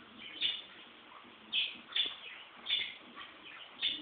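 Several short bird chirps ring out in a quiet indoor home setting, arriving in a loose irregular pattern of brief calls, moderately close and fairly soft, with no talking over them.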